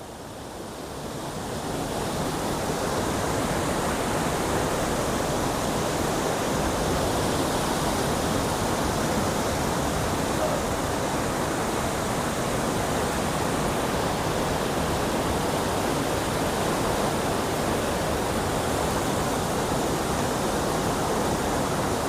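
A constant heavy rush of water falling from above inside a cave roars nearby, a dense unbroken wash of noise that swells in at the start and then holds steady.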